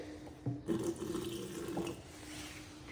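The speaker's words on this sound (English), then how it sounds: "This is going to be filtered water right here." Steady running filtered reverse-osmosis water from a faucet splashing into a sink, continuous and close, with a few clinks and knocks near the start.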